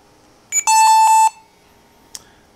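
A barcode scanner in a barcode matching system sounds a loud, sustained electronic beep for about three-quarters of a second to flag a mismatch, followed moments later by a short faint click.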